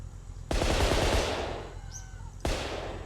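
Rifle gunshots in The Long Drive video game: two loud, sharp bursts with long rumbling tails that fade out, the second cut short, heard up close with no talking.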